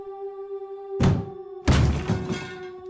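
A door is kicked violently in a horror audio drama, two heavy booming thuds about half a second apart with a rattling decay, loud and close over a low sustained drone.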